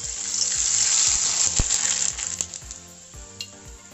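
Poha papad deep-frying in very hot oil in a kadhai, a bright loud sizzle that swells and then eases off, with a sharp click near the middle and light bubbling.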